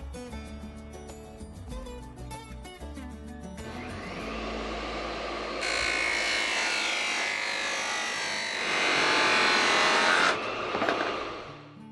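A table saw cuts through a vinyl fence slat. The blade spins up with a rising whine, then a loud, harsh cutting roar holds for several seconds before it winds down, with some clatter at the start.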